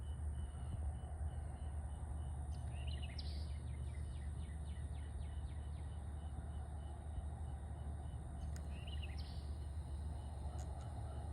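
Birds chirp in short bursts outdoors during work on a Skywatcher CQ-350 Pro telescope mount, a few faint calls standing out over a steady low hum.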